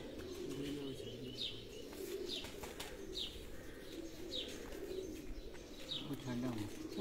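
Hobby pigeons in Kharian, Pakistan coo repeatedly in soft, low, rolling calls, with occasional chirps and a faint flutter against a quiet outdoor background.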